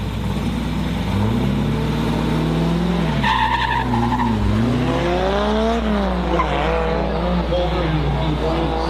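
Purple E36 BMW drifting at a drift event, a steady loud engine roar with rising and falling revs and tire squeal throughout, while a commentator talks over it.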